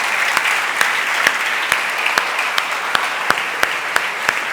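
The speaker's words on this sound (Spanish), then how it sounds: "Dale un aplauso a Jesús." Congregation applauding in a church service, steady clapping throughout with sharp accented claps standing out at a regular pace, moderately loud and sustained.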